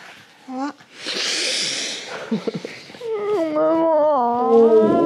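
A cat meows repeatedly at close range, with short rising and falling cries and a longer drawn-out wail near the end, interspersed with breathy noises and a brief bit of human speech.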